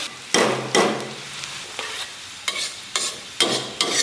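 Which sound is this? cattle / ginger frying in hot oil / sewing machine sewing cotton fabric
ginger frying in hot oil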